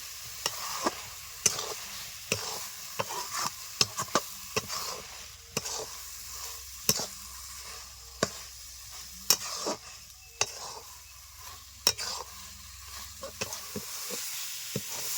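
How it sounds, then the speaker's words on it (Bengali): Carrot halwa with cardamom being stirred in a pan, irregular scraping and knocking strokes of a spoon over a faint low sizzle, quiet and close with no speech. "এলাচ দেওয়ার পরে আমি আরও দু তিন মিনিট নেড়ে চেড়ে নিয়েছি"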